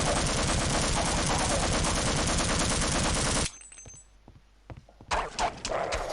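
Sustained rapid automatic gunfire in the video game Half-Life Opposing Force, loud and continuous for several seconds. It cuts to a quieter stretch, then a few more sharp shots follow.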